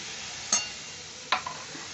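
Coriander leaf paste is stirred into catla fish frying in a pan, a steady faint sizzle with two distinct scraping stirs close up and no voices.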